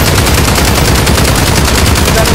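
Dense, loud gunfire from the Call of Duty video game, sustained rapid shots forming a continuous machine-gun-like barrage across the whole clip with no clear pauses.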